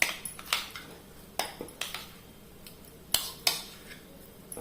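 A spoon stirs a mango dessert with sago and soaked basil seeds in a bowl, giving sharp, irregular clinks of metal against the dish with soft scraping between strikes, close and moderately loud, without talking.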